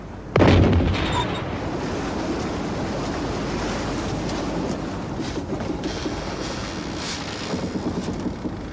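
A ship's cannon on an 18th-century sailing vessel fires a single loud boom near the start, then the blast fades into steady wind and ocean wash with creaking hull noise.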